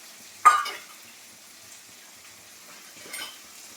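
Capsicum hitting hot oil with onion, bay leaf and dried chili and being stirred in a pan: a sharp sizzle burst with a spatula scrape, fading, then a second softer sizzle and stir a few seconds later.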